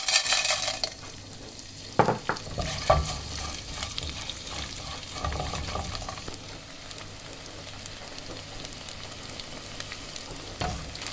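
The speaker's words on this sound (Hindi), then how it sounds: "अब इसमें मैं गोंद और फूल मखाने ये थोड़े थोड़े करके डालेंगे और इसको पॉप करते जाएंगे।" Fox nuts (phool makhana) and edible gum popping in hot ghee over low to medium flame, a steady crackling sizzle with stirring scrapes and occasional sharp pops and pan clinks.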